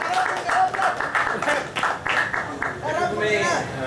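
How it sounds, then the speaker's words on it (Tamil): Applause from an audience at a talent show in Singapore, uneven clapping rising and falling while voices speak over it. "அவங்களுக்கு ஒரு கைத்தட்டல் கொடுங்க"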